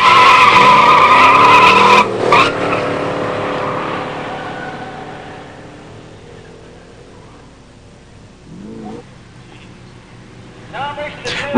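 At a factory-showroom pure stock drag race, a 1972 Mustang 351 four-speed and a 1986 Regal T-Type launch with a loud burst of engine roar and squealing tires, then the sound fades quickly into the distance before faint noise returns near the end.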